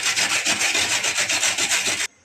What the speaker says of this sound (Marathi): आता गाजर किसून घेऊया